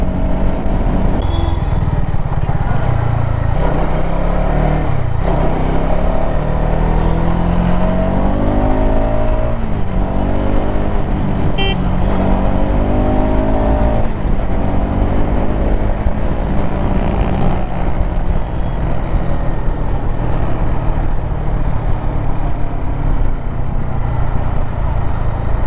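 A motorcycle engine roars loud and close at high speed, holding a continuous throaty drone with rising and falling revs as gears shift, near top speed around 140, with no talk.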